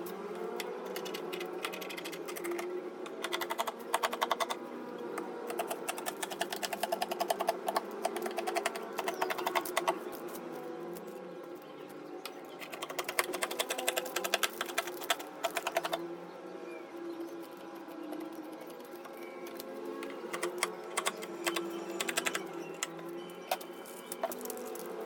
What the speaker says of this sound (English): So I'll just cut the back.